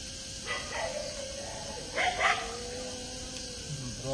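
Dogs bark faintly in the distance at a graveyard at night, a few scattered barks and yips over steady background hiss.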